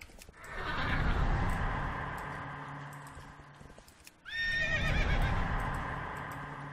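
Two loud horse whinnies in World of Warcraft, one drawn out and a second shrill and quavering, with soft hoof clatter underneath.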